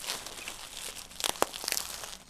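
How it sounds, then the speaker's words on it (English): A razor blade slicing open the plastic packaging of a cellular window shade, heard as close crinkling and tearing with a few sharp snaps amid rustling. "So I'm gonna take my razor blade again."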